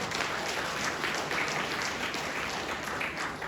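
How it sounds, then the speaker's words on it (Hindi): Audience applause at a business plan presentation, a dense continuous wash of many hands clapping, steady and even in loudness throughout, heard alone without speech. "इसके लिए एक बार जोरदार तालियां चाहते हैं आप"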